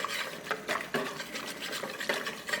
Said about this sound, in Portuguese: sempre colocando farinha aos poucos e misturando, para não passar do ponto